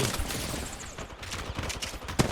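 Rapid gunfire from an Apex Legends match, dense overlapping bursts of shots running throughout at moderate loudness with a sharp crack near the end.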